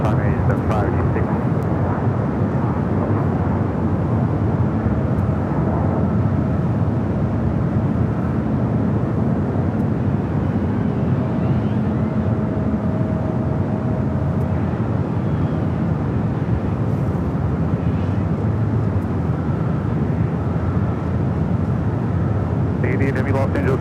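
An airliner takes off from runway 24 left at Los Angeles International Airport, a continuous loud roaring engine rumble that holds steady throughout, with radio chatter faintly underneath.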